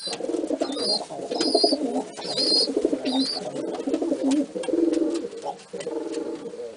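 Pigeons, including a dilute-coloured bird, coo nearby in repeated throaty phrases, with a few higher chirping calls in between.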